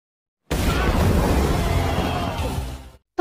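A grenade blast in an action film's robbery shootout, loud and sustained, a broad rumbling boom that swells at once and then slowly decays over about two and a half seconds.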